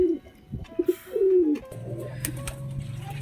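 Pet pigeons bathing in freshly poured water coo in short low bursts, close by, with a faint wet flutter and a steady background hum and no talk.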